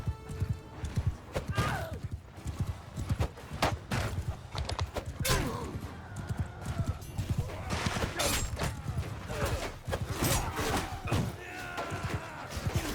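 Horses in battle in Mount & Blade 2: Bannerlord, with a steady thudding of hooves, whinnies and clashing impacts in a busy mix, and a shouted voice over the din.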